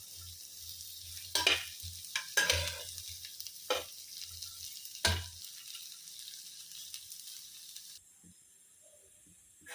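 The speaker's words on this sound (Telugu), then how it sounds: "కొంచెం ఫ్రై చేసుకోండి. చూపిస్తాను కదా నేను, అలా ఫ్రై చేసుకోండి" Ingredients frying in a pan and being stirred, with a low steady sizzle broken by several sharp scraping strokes; the sizzle drops away toward the end.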